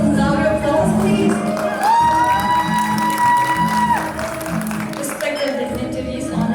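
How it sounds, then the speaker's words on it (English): An audience at an airline's tenth anniversary celebration applauds and whoops in a steady crowd roar, with shouts and a held cheer rising over the clapping. "Some louder applause, please."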